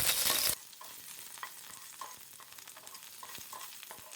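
Garlic cloves and two dried red chillies fry in hot mustard oil, giving a steady close sizzle with scattered crackles and light stirring scrapes; a louder hiss in the first half-second settles into a softer crackle.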